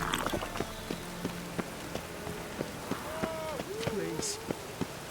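Rain falls in The Witcher 3 city streets, a steady hiss of drops under sparse taps and footsteps, while voices talk over it.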